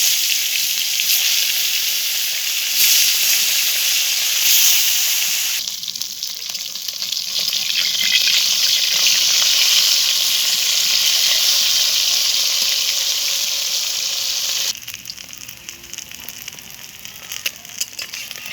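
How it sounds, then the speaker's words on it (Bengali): Fish frying in hot mustard oil in a heated wok, a loud, dense crackling sizzle that holds steady close by for most of the stretch, then drops to quieter spitting toward the end. "তেলটা গরম হয়ে গেছে এবার আমি মাছগুলো দিয়ে দেব"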